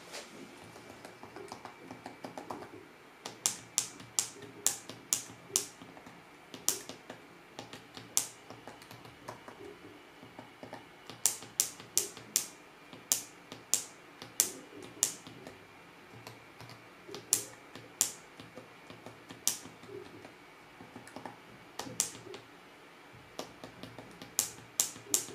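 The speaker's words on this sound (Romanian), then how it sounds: "anumite taste au început să producă un sunet diferit și chiar deranjant" Keys on a faulty 2016 MacBook Pro keyboard with Touch Bar click abnormally, a loud irregular series of sharp, close taps in bursts, alone with no talking.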